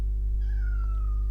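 A single drawn-out cat meow, faint and thin, over a strong steady low hum.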